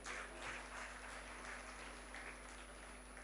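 Applause welcoming Zahida Hina at a session of the Aalmi Urdu Conference at the Arts Council, soft scattered clapping from the hall, faint and distant over a steady electrical hum.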